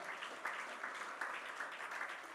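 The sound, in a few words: congregation applauding the Lord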